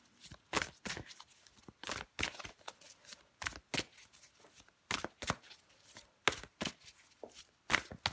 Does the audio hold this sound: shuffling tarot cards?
yes